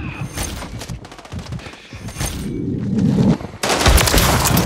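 Gunfire in Call of Duty: Modern Warfare III, with bursts of automatic shots and scattered single cracks. A dense, louder volley swells near the end over a low rumble.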